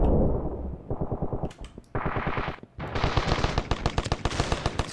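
An aircraft-mounted machine gun fires in the video game Ravenfield, loud, rapid bursts of distorted gunfire in several runs separated by short pauses, close and heavy with no talking.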